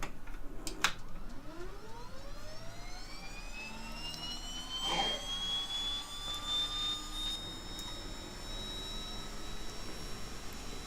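A Beechcraft 1900D turboprop engine starts up in the FS2004 flight simulator, with a rising whine that climbs steadily over several seconds and settles into a continuous drone over a low rumble.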